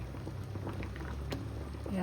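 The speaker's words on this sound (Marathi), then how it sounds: "अशा पद्धतीने उकळत आहे ते बटाटा" Potatoes boil in a pot of water, parboiled for homemade crispy french fries, giving a steady faint bubbling and soft patter throughout at low level.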